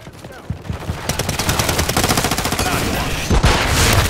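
Loud, rapid automatic gunfire from a Call of Duty match rattles almost continuously, in fast rhythmic bursts that swell louder toward the end.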